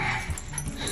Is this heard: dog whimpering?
yes